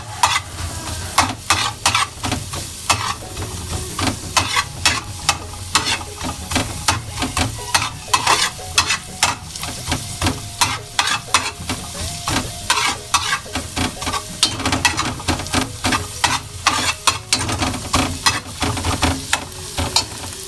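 Garlic frying in a pan for Filipino sarciadong isda, a steady loud sizzle with constant crackling pops and occasional stirring scrapes, running continuously and close with no talking.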